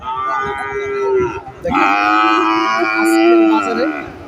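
A red Sahiwal bull at a cattle sale moos loudly and close, two long drawn-out lowing calls separated by a brief pause, with faint voices in the background.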